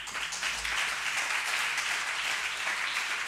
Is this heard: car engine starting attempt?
no